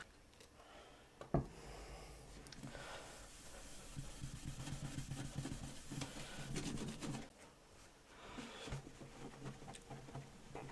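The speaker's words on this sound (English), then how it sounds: "I'm doing this by hand so I can judge the amount of pressure and the amount of coverage I'm putting on the guitar" A buffing pad rubbed by hand over the lacquer of an Antoria Jazzstar archtop guitar gives a soft, continuous close-up rubbing hiss in repeated strokes, with a sharp knock early on.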